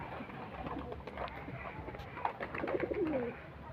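A large male Madras pigeon coos nearby in low, throaty bursts that grow stronger toward the end, over a background of soft ambient noise.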